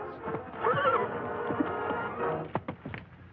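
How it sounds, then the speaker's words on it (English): Black Cloud, a veteran warhorse, lets out a loud, close whinny followed by shuffling hoof clops and snorts. "Here is the Warhorse Black Cloud, fiery veteran of 100 campaigns, the most famous horse between our coasts."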